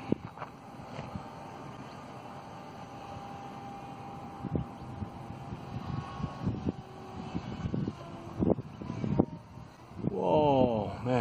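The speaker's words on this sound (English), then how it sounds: "It's a bit windy today." Gusty wind rumbles and buffets the microphone at a field where an RC microlight is flown, with uneven low roaring surges and a small engine whine rising near the end.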